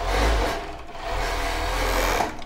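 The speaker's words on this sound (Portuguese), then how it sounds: "Mas eu vou costurar só essa lateral aqui, e essa parte aqui não, por causa da alça" A sewing machine stitches the side seam of a bra, a close rapid whirring buzz that runs in short bursts with brief slowdowns, heard alone without talk.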